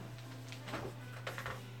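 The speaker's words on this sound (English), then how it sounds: "is my printer printing? It is." An inkjet-style printer working nearby, a steady low hum with whirring carriage passes and soft mechanical swishes over a couple of seconds.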